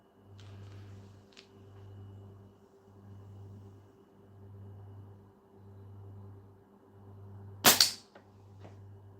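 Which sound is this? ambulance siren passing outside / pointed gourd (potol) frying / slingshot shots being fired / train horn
slingshot shots being fired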